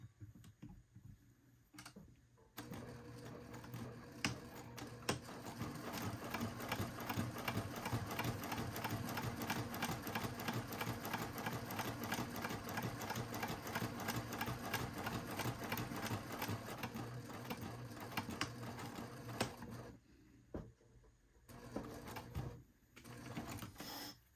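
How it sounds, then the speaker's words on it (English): Sewing machine top stitching a leather batwing wallet, running in a long continuous rapid whir of stitches after a few short starts, then stopping and giving brief bursts at the end. "I'm going to top stitch down that side"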